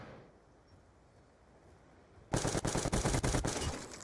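Video game gunfire erupts after a quiet stretch: a rapid, loud automatic burst of about a dozen sharp, evenly spaced shots lasting under two seconds.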